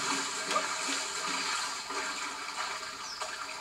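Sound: Mario ground pounding into water, Super Mario Odyssey video game

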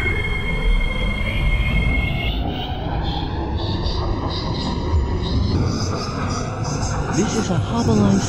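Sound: metro train departing from platform

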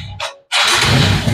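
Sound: Viva motorbike engine starting after refuelling

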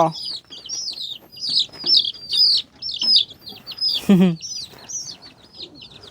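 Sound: chickens clucking while going to roost

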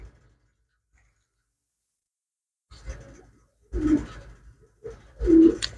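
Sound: pigeon cooing

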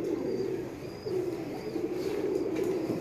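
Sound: pigeons of Ustad Mian Nazir cooing

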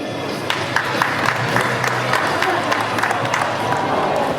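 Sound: crowd of football fans applauding at Incheon Airport

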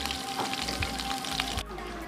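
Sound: frying in oil

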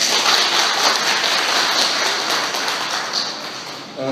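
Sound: audience applauding to thank the bank

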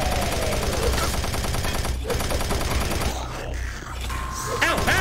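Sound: gunfire from the video game Doom 3

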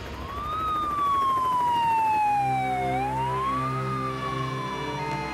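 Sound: ambulance sirens

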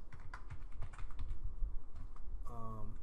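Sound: typing on a computer keyboard

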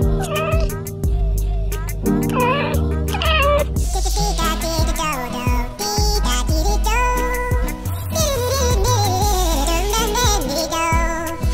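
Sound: cats and kittens meowing

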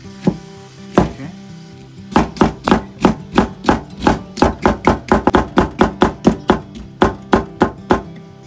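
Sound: knife chopping paprika into long strips

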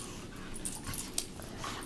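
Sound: dog whimpering

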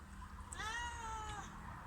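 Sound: stray cat meowing

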